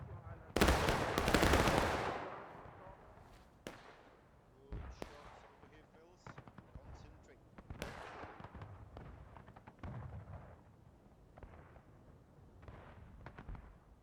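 Scattered rifle fire from sharpshooters in the Civil War video game War of Rights on the Dunker Church map, a loud opening burst then irregular distant cracks and pops spread through the clip.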